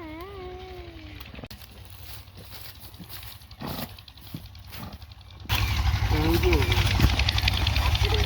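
Horses' hooves clip-clop close by under people talking, growing into a louder, noisier stretch in the last few seconds.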